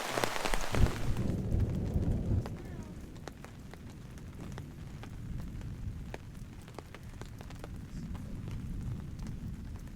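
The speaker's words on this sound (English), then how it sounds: "We kept getting these crazy bursts of wind and rain." Wind and rain lash a tent at night on a backcountry canoe camping trip, beginning with a loud burst of gusting rain that settles into a steady patter with scattered drops.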